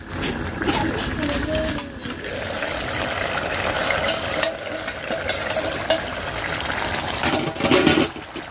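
Cut, washed potatoes sizzle in a pan of fish curry, a steady crackling fry with scattered bubbling and occasional stirring clinks, close and continuous.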